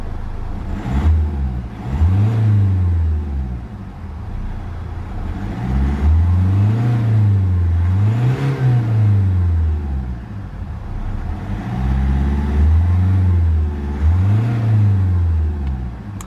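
A 2012 Kia Optima 1.7 CRDI diesel engine revs repeatedly and loudly up close, rising and falling in steady cycles with short pauses between the pulls.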